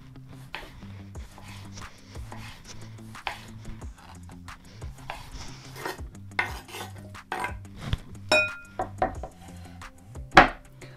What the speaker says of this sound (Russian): И нарезаем кубиками,